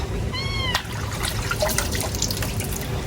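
River water splashes and sloshes in a bucket as crabs are washed, a busy wet clatter close by, with a brief high tonal whine near the start.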